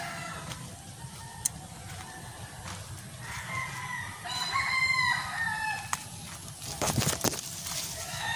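Chickens on a backyard lot, a mother hen with her chicks, with clucking and chirping calls over constant outdoor background noise and a few sharper sounds near the end.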